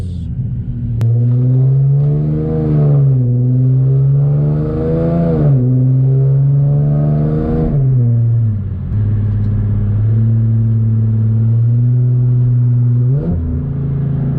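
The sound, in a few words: Infiniti G37x engine revving and downshifting while driving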